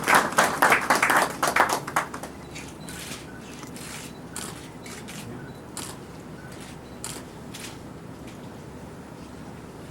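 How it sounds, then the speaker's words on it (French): Applause from attendees at a ceremony installing electoral councillors: a loud burst of clapping for about two seconds, then a few scattered claps in a quiet room. "Sous vos applaudissements."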